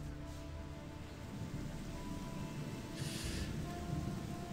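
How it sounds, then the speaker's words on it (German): Rain in the video game Gothic 2 falls as a steady, low rushing wash with a dense patter throughout, fairly faint and unbroken, with no voices. "schönes Regenwetter"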